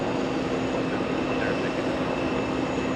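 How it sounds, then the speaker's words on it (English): A JetBlue Airbus A320 airliner moving at JFK airport gives a steady, loud broadband engine roar with a constant tonal whine throughout, no talking. "JetBlue 1261 heading to Bridgetown. That's an A320. Getting a move on."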